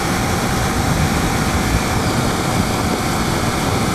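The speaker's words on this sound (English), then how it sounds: "I like the sound of the Ducati, of course." A Ducati 848 Streetfighter motorcycle engine drones steadily and loudly throughout, a dense continuous rumble with no break in pitch or level.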